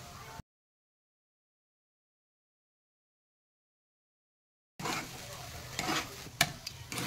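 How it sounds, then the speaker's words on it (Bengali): Cauliflower mixed with chana dal paste is stirred in a pan over a low flame, with soft scraping and light sizzling that starts after a long silence and runs for the last couple of seconds. "আমি ভালো করে 10 মিনিট মতো লো ফ্লেমে নাড়লাম"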